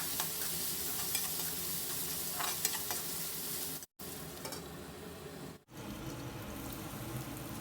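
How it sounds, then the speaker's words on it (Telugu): Onions sizzle in a pan with a pinch of turmeric and half a spoon of salt for a tomato and drumstick curry, a loud, dense, continuous frying hiss with light stirring, close by, briefly cutting out twice, no voices. "మనకు ఆనియన్స్ మంచిగా ఫ్రై అయిపోయినాయి"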